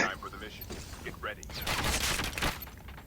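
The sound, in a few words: gunfire in a video game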